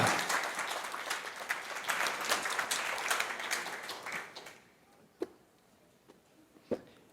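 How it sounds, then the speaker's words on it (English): Audience applause for a speaker being introduced at an afternoon program, a dense steady clapping that tapers off after about four seconds, leaving a quiet room with a couple of isolated claps. "So if you please give a round of applause to Stanley Krippner"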